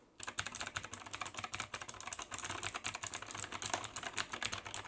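Rapid typing on a Cherry MX style mechanical keyboard with loud clicky switches, a dense irregular stream of sharp clacks, close and alone with no voices.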